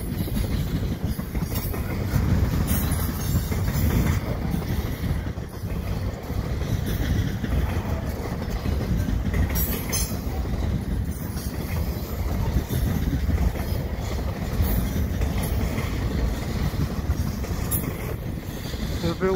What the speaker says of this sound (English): Well, double stacks on here too.